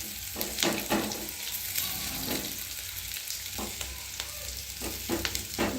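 Onions sizzle steadily in a hot pan, with occasional scraping stir strokes cutting through the frying. No one speaks.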